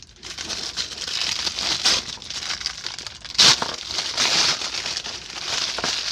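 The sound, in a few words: tearing the paper packaging of a Power Rangers figure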